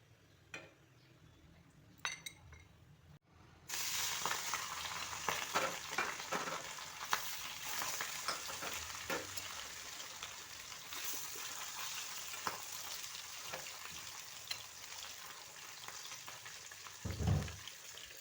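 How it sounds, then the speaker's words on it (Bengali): Katla fish pieces fry in hot oil with a soft, steady sizzle that swells after a quiet start, broken by occasional clinks of a utensil against the pan. "মাছগুলোকে এপিট ওপিট ভালো করে ভেজে নেব।"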